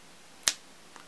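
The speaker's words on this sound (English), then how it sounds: "If I snap my fingers one more time, your card will become visible." A single sharp finger snap during a close-up card magic trick, crisp and near in a quiet room, followed a moment later by a much fainter second click.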